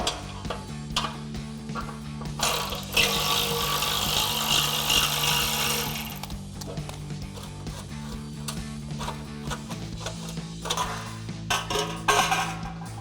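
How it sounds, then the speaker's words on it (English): A 13mm socket ratchet works loose the exhaust tip of a Challenger fitted with a Flowmaster FlowFX cat-back system, heard as close clicking ratchet strokes, metallic clinks and a burst of harsher tool noise in a garage. "then we'll switch to our 13mm socket to pop off our tip."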